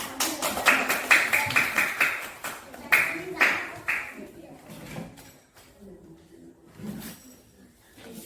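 A small group of people claps in a classroom, a brisk burst of rapid, close handclaps that tapers off into scattered claps while voices talk over it.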